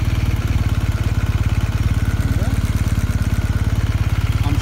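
A BMW R1250GS motorcycle's boxer engine idles in a steady, fast, rhythmic low thrum, loud and close, holding an even beat throughout.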